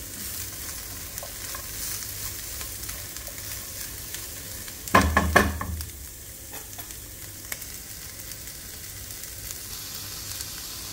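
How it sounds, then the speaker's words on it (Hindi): Beaten eggs with green chilli sizzle steadily in a pan, a brief louder scraping stir cutting in partway through, with no voice over the frying. "मैंने इस तरह से एग्स को डाल दिया इसमें बीट करके, और अब मैं अब इसको मिक्स कर लूँगी"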